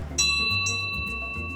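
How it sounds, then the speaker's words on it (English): An old school bell is struck once and rings close and clear, its metallic tone sustaining and slowly fading with bright overtones. "School bell, remember those?"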